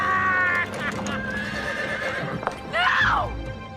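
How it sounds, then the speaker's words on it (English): A horse in an adventure film whinnies loudly near the end, after a stretch of close, rhythmic hoof clip-clops, with voices calling out around it. "It's Champion the Wonder Horse!"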